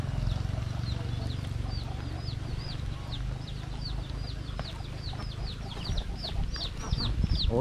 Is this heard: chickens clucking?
yes